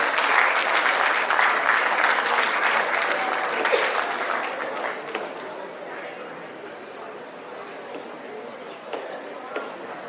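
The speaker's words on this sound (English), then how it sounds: "Let's give a big round of applause to them." Audience at a school awards ceremony gives a big round of applause for the second-placed school. Dense, sustained clapping is loudest at the start and slowly thins out over ten seconds.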